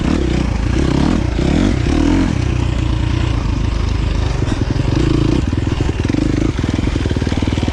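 A KTM 350 XC-F dirt bike engine on a trail runs loud and close throughout, with revs surging and dipping under clutch work and a log hop, plus some clatter and scraping.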